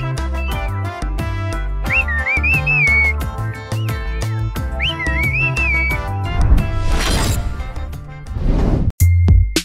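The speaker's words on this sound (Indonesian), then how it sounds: "Siulan mengisyaratkan rencana pertemuan dua orang untuk kencan di malam hari." A whistled melody, a courtship signal arranging a night date, rises and glides several times over loud busy instrumental music, ending among crashing percussive hits.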